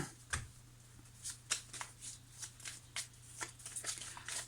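Tarot cards are shuffled for a reading, making a series of quiet, close riffles and soft slaps in an uneven rhythm over a low steady hum.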